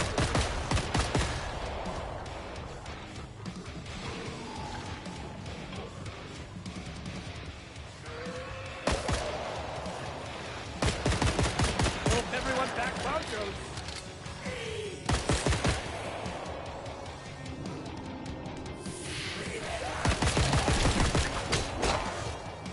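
Bursts of rapid automatic turret fire in the video game Killing Floor 3 come in several loud waves, separated by shorter pauses filled with thumps and game noise.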